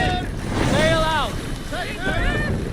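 In Assassin's Creed Valhalla, a Viking sailing ship moves over open water. Wind rushes and waves wash steadily beneath it, and voices or calls rise and fall over the top.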